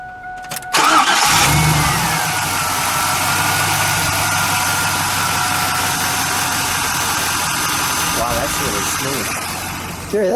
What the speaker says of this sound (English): let's start her up, shall we? Let's hear what it sounds like at idle,